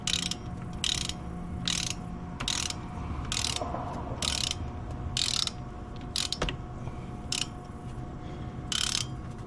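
A hand ratchet clicks in repeated bursts, torquing bolts on a hydrolocked 6.0 Powerstroke diesel engine to 30 foot-pounds, each pass a quick crisp run of pawl clicks with short pauses between, loud and close.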